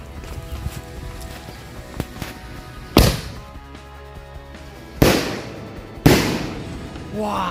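Firecrackers set off outdoors during the Ramadan fasting month, with several sharp loud bangs a second or two apart over a background of lighter crackling pops and faint ambient noise.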